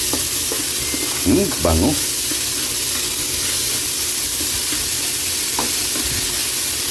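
Tulingan fish and coconut milk bubble and sizzle steadily in a pan for Ginataang Tulingan, giving a constant frying hiss with a few scraping stirs early on and a brief spoken word.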